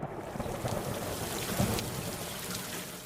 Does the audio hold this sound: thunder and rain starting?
yes